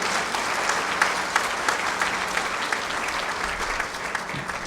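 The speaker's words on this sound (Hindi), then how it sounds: "इनके लिए जोरदार ताली बजाएंगे।" Sustained applause from an audience at a Haryana party workers' meeting, steady and fairly loud, with dense overlapping claps and occasional sharper individual claps throughout.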